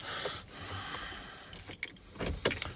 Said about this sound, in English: So the keys, old school Ford.